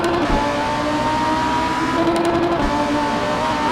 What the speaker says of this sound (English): You hear the engine of that Lambo hollering as it gets onto the back straight